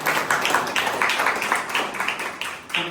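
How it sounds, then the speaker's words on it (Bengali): A short burst of audience clapping for a team leader at a rank achievement event, many hands clapping steadily and fairly close for about three seconds before it thins at the end. "ওনার জন্য একটা করতালি ছিল।"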